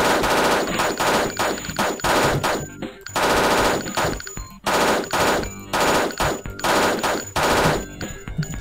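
Rapid bursts of automatic gunfire from a gun in the video game Thing Thing 2, loud repeated volleys with brief pauses between them.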